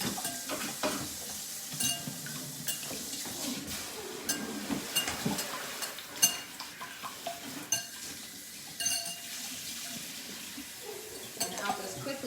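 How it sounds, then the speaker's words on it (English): Eggs are whisked in a bowl, an irregular run of quick scraping and light clinking strokes against the bowl, close and moderately quiet, with no clear talk. "So Callie, if you want to whisk them up"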